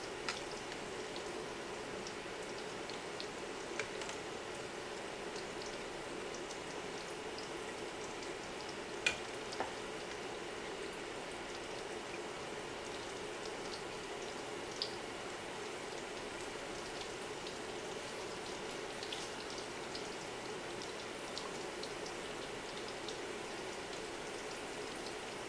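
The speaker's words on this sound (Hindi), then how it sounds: "अब हमने थोड़ी थोड़ी देर के बाद इनको पलट कर इस तरह से दूसरी साइड से भी फ्राई कर लेना है" Aloo vada potato fritters frying in oil, a faint, even bubbling sizzle that holds steady throughout, with scattered soft pops and no talking.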